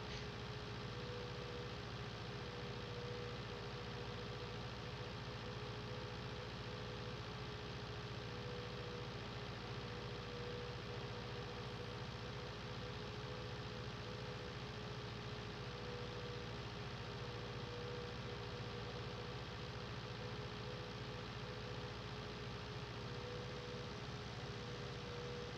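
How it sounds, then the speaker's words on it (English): A John Deere 6R tractor engine idles in Farming Simulator 19, a steady unbroken low drone with a faint hum, close and alone throughout. "This is a nice little 6R, I do have to say that. This is a nice little tractor."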